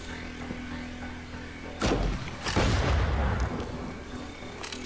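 Loud explosions from rockets fired into a city street in the zombie survival game State of Decay, two heavy blasts a second apart, each leaving a long rumbling roar that slowly fades.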